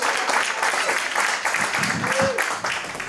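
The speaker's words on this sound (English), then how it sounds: "Round of applause" Audience applause at a cocktail competition, the Diplomatico World Tournament, as a bartender is welcomed on stage: dense, steady clapping from a crowd throughout, fairly close and loud.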